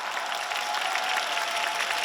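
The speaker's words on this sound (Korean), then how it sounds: "우리 감독님께 박수 부탁드리겠습니다" An audience at an open talk during a film festival applauds the director, a steady wash of clapping that holds throughout without talk.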